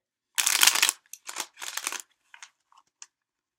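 Tarot cards are shuffled and drawn, with a few quick riffling bursts followed by softer, brief card slides and taps, close by against silence.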